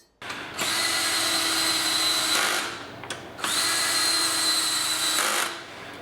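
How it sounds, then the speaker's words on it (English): A cordless drill tightens a bracket onto a water filter housing in two sustained, loud whirring runs of about two seconds each, separated by a short pause, with no talking. "I'm going to grab our drill and tighten these down"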